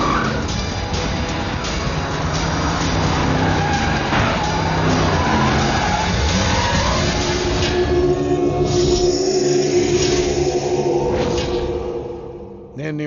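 A car in a Telugu comedy film scene tears off with screeching, skidding tyres and a roaring engine, loud and sustained for several seconds before fading away, with a voice briefly heard.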